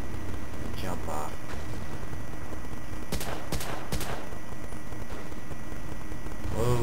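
Gunfire crackles in the World War II video game Battlefield 1942 at the Midway map, with a busy rattle of bursts and several sharp shots amid constant battle noise, under a voice.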